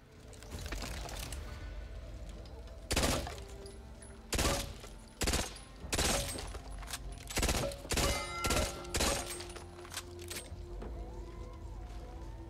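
Burst-fire sidearm in the video game Back 4 Blood, with several loud, sharp bursts of rapid shots separated by short pauses and mechanical handling clicks in between.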